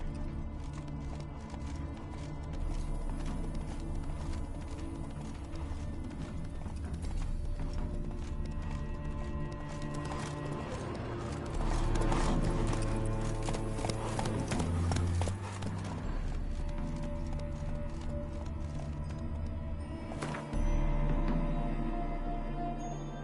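Roach, the horse in The Witcher 3, clip-clops steadily with rhythmic hoofbeats under game music and ambience, with occasional louder thumps and a faint whinny.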